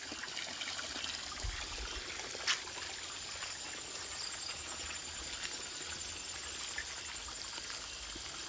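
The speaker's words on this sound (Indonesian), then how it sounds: "Terus mengalir tanpa henti, tanpa dipompa ini teman-teman ya, langsung dari air tanah langsung ke atas tanpa dipompa" Spring water flows continuously from groundwater into a river, a steady, dense rush of running water at even loudness throughout, with no talking.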